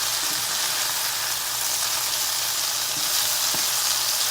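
Food browning in a frying pan gives a steady, close sizzle throughout, with a few soft scrapes as it is stirred around.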